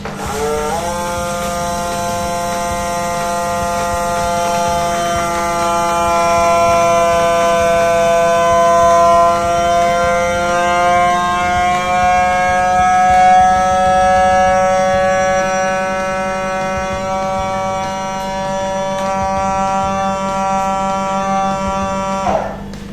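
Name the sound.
vacuum sealer sealing a bag of fermented chilli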